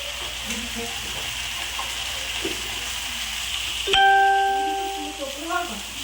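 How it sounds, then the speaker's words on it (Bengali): Rotis frying in a pan give off a steady sizzle and hiss in a home kitchen, with a faint voice in the background and a short chime-like tone partway through. "ওখানে মেয়ে আমার রুটিগুলো ভেজে দিচ্ছে"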